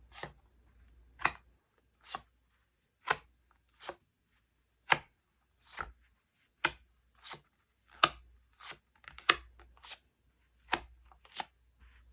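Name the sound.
tarot cards being opened and handled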